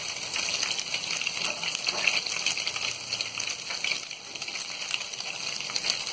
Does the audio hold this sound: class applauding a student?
no